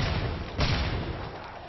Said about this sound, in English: let's spam some grenades in